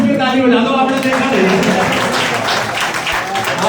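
Crowd applause at a Bharatiya Janata Party membership drive rally in India, a dense, steady wash of clapping lasting throughout, with voices and crowd noise mixed in.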